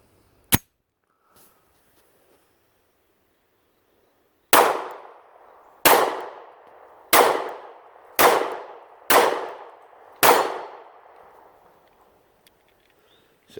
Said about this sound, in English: 6 rounds fired perfectly.